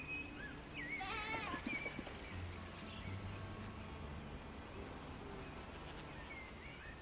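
Goats bleat in the video game Windrose, a couple of faint wavering cries early on over a steady ambient hum, with fainter calls later in the clip.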